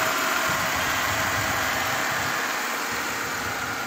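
A Suzuki Liana car with an M13 engine converted from manual to automatic transmission idles steadily, a smooth continuous hum with no missing or jerks, alone and close.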